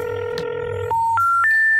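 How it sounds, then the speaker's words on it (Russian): A phone call goes out: a short burst of dial tone, then three rising steady tones of a carrier intercept signal, each held about a quarter second, loud and clear with no talk. "Позвоню-ка я Лизе и Алене, погуляем."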